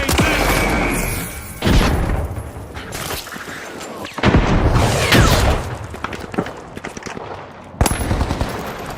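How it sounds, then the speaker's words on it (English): A frag grenade goes off in the shooter game The Finals amid a firefight: several loud booming blasts cut through rapid, continuous gunfire, with sharp bursts landing near the start, middle and end. "Frag grenade"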